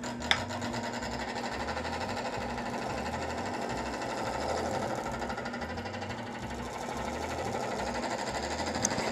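A metal spinning lathe turns a square metal blank as a tool spins it up, giving a steady, close, rhythmic whirring with a low repeating pulse and a faint scraping texture, constant throughout with no voices.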